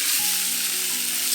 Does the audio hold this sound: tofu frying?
yes